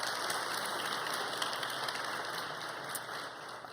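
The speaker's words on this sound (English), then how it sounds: "Let's give them a round of applause for sharing their stories." Applause for conference panelists fills the room as a dense, steady patter of many hands clapping, moderately loud and fading slightly toward the end.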